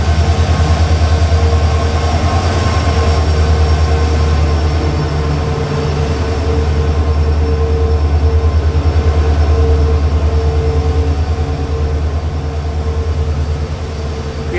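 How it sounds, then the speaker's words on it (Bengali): Express train number 15467, the Siliguri–Bamanhat Intercity, pulls into an Indian station with a loud, steady rumble of wheels and carriages that continues unbroken throughout, with no voices. "প্রবেশ করছে কিন্তু আমাদের 15467 শিলিগুড়ি বামুনহাট ইন্টারসিটি এক্সপ্রেস"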